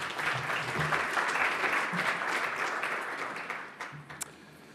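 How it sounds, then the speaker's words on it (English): An audience at a New Zealand conference session applauds in a full, sustained burst that gradually fades out, ending in a few scattered claps. "Round of applause, please, ladies and gentlemen"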